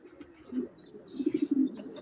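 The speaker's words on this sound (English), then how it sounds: "they're homing pigeons" Homing pigeons kept in a backyard loft coo softly in a few low, throaty bursts, close by, with light rustling between calls and no talking.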